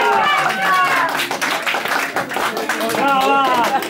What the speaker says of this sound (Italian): Un applauso di coraggio